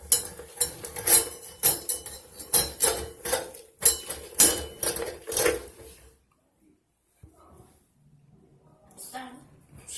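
A manual hand drain snake fed into a drain gives a run of sharp metallic clanks and rattles close by for about six seconds. After that it goes nearly quiet, leaving only faint scattered noises.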